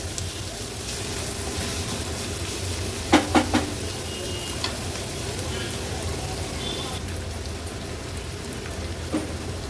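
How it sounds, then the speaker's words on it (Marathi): Onion fries in oil over a medium flame, giving a steady, soft sizzle that runs throughout, with a few sharp clinks of a utensil against the pan partway through. "कांदा व्यवस्थित तेलामध्ये परतून घेते"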